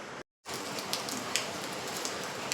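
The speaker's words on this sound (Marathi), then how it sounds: "बाहेर मस्त पाऊस चालू आहे" Rain falling outside, a steady close patter with a few louder drops, after a brief silent break at the start, with no one talking.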